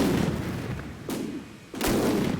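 Artillery fire in DCS World, a combat flight and battle simulator: three heavy booming blasts spaced roughly a second apart, each a loud broadband crack with rumbling tails, close and alone without speech.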